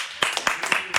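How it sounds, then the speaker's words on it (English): A few people clap briefly in a room, about five or six sharp claps at an uneven pace, close and moderately loud with no talking. "right, clap it up in here, y'all"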